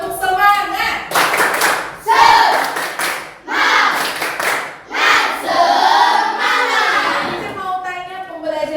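A classroom of children doing the 'tepuk semangat' clapping chant, rhythmic group claps mixed with loud chanting voices, close and energetic, in bursts across several seconds.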